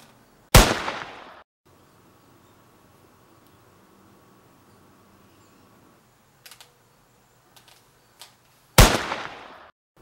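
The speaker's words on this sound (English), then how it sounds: "Are you trying to shoot me?" Two sharp, loud gunshot-like cracks, one near the start and one near the end, each with a short decaying tail, separated by near silence and a few faint clicks.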